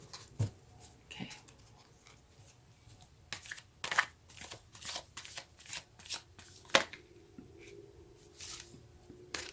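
Tarot cards are shuffled by hand at close range, with papery riffles and soft slaps coming in uneven bursts.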